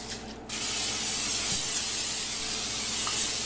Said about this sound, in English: I'm going to spray these with Pam so the seasoning actually sticks to them.